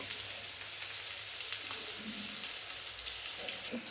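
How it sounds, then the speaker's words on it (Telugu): Green chillies sizzle steadily in hot oil in a pan on a gas stove, a bright, continuous frying hiss close up with no talking. "పచ్చిమిరకాయలు వేసి ఇంకా బాగా వేగనిచ్చేసాను"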